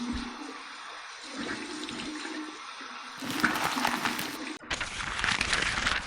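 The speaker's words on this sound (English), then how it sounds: "flipping over to the cold water side, here's my cold water rinse" Cold water runs from a bathroom tap for a post-shave rinse, a steady rushing stream that gets louder and splashier partway through, briefly breaks off, then carries on.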